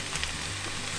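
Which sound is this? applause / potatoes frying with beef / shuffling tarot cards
potatoes frying with beef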